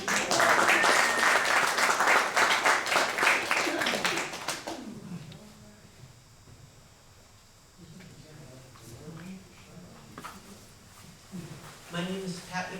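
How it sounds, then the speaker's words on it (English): Audience applause at a first-Friday gathering, dense clapping for about four seconds that fades away, followed by quieter room sound and a voice starting to speak. "thank you for the applause before I even speak"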